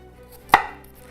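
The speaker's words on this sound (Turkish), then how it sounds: "soğan istediğiniz gibi kesebilirsiniz" A single knife chop through an onion on a cutting board, one sharp close stroke in a quiet kitchen, for a creamy mushroom chicken dish.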